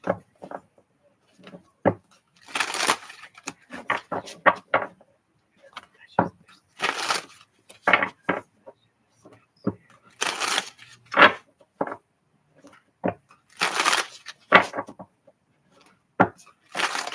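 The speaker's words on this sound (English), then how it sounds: "All right, last shuffle." A deck of tarot cards is shuffled by hand in repeated short riffling bursts with pauses between, close and crisp, with faint talking in places.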